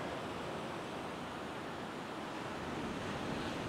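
Ocean waves breaking on a beach beside a rainy car campsite, a steady, broad wash of surf that stays constant and fairly faint, with no voices.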